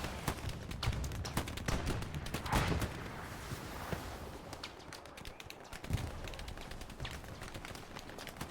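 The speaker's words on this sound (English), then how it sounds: "This guy's catching some machine gun fire now." Gunfire in a World War II shooter match on the Carentan map, with rapid bursts of machine gun fire and scattered shots crackling continuously at moderate distance throughout.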